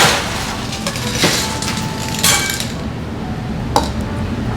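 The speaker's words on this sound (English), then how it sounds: "Now we're going to add ice to your highball glass." Ice cubes dropping into a highball glass while a vodka rickey cocktail is being made, several bright clinks and clatters over a busy, close background.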